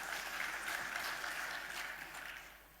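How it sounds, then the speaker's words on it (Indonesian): An audience gives a sustained burst of applause at the 2025 PSSI ordinary congress, a dense and fairly faint clatter of many hands that fades toward the end. "Tepuk tangan buat kita semua."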